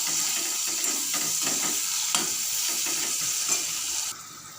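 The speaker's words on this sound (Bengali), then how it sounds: "দিয়ে দেবো এবারে পরিমাণ মতো নুন, আর দিয়ে দেবো হলুদ গুঁড়ো। লো ফ্লেমে ভালো করে কষিয়ে নেব।" Glass fish sautéing on a low flame with salt and turmeric, a dense continuous sizzle with intermittent scraping clicks from stirring, close and fairly loud, ending slightly quieter.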